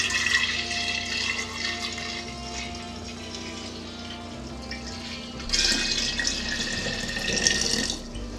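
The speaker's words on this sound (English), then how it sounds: "you can clean this jar and then you would just pour it in" Tea runs steadily into a jar with a continuous splashing rush, growing a little louder and busier toward the end.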